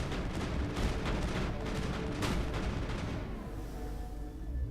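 Continuous gunfire and explosive booms from a firefight in the sci-fi game Mass Effect, dense and loud for several seconds before easing off into a softer rumble.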